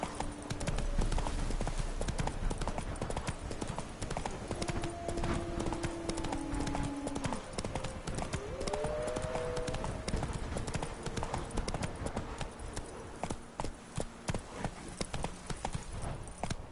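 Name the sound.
horse Roach galloping, from a video game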